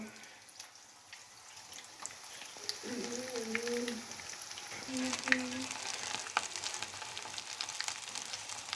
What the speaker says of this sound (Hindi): इसी तरह हम सारे कबाब फ्राई कर लेंगे